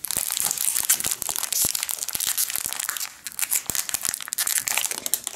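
Close-up crinkling and crackling of plastic wrapping being torn and crumpled, a dense run of sharp rustles with brief pauses.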